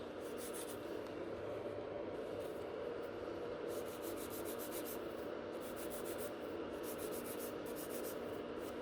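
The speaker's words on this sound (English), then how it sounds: "using the file, we are going to reshape those nails and shorten them. So I'm filing one side, other side," Steady rubbing and rasping of a nail file shaping and shortening fingernails at close range, continuous strokes with slightly brighter bursts in the second half, no talking.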